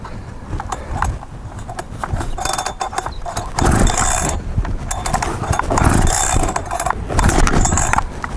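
A chainsaw being started: repeated mechanical pulls and rattles build into a loud, dense engine roar that runs close throughout.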